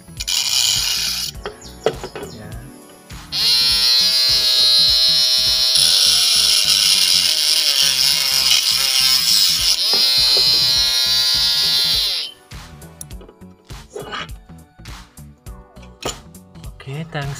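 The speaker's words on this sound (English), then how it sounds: "Mini grinding." A homemade mini grinding machine runs loudly with a steady high-pitched electric whine and a slight pitch dip midway, with mechanical handling clatter before and after.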